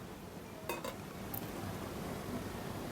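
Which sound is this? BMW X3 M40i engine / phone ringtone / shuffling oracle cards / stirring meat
stirring meat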